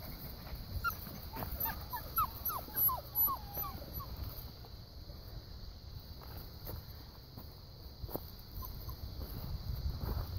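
Small, high-pitched whimpers and yips from puppies, close by, scattered over a noisy outdoor background with a faint steady hum.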